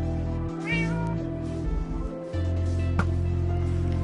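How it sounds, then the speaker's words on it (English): A cat in the Minecraft video game meows once, a short clear mew standing out over a steady game soundtrack and ambience, followed by a sharp click. "Oh, a cat's still out there."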